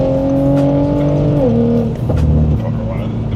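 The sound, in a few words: Audi RS5 V6 exhaust popping while accelerating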